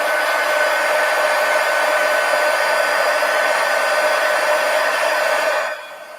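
Steady, loud whir of a hair dryer blowing on a wet gouache botanical painting, running continuously and then dropping off near the end as it is switched down.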